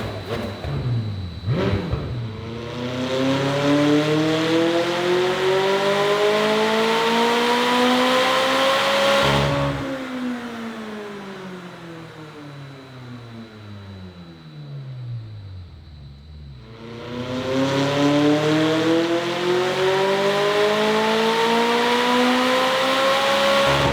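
A McLaren 600LT engine on a dyno climbs in a loud, rising howl through the gears, drops off, then winds up again in a second sweeping rev, close and continuous.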